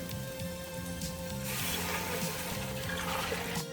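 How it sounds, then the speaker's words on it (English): Vegetable stock is poured into a soup pot of sauteed vegetables, a steady liquid splashing and sizzle over a low, repeating background melody. "Now I'm going to add 5 cups of vegetable stock"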